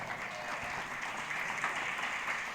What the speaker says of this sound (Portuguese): Aplauda o Senhor nesta noite aqui bem forte.